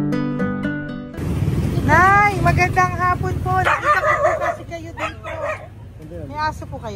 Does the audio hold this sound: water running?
no